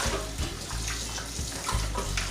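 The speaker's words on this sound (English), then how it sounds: "And then we're gonna rinse it again with just plain water" Running water splashes steadily as pig trotters are rinsed in plain water, a continuous close gush with small surges and dips and no talking.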